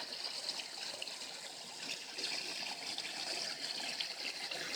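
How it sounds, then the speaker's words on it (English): Water trickles and churns steadily in a backyard fish pond, a continuous close splashing wash with no voices. "It's churning nicely in the water."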